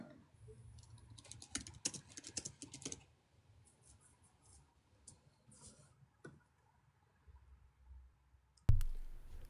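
Typing on a computer keyboard during a live stream, a quick flurry of clicky keystrokes early on, then scattered taps and a pause before a sharp thump at the end.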